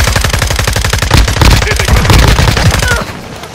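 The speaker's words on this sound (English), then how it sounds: "They're shooting at us" Rapid automatic gunfire in a shooter video game, loud close bursts in a fast regular rhythm lasting about three seconds before cutting off abruptly.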